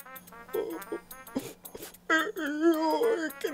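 Dogs whimper and whine in high, wavering cries, close by and moderately quiet, mixed with a distressed voice speaking in a television drama scene.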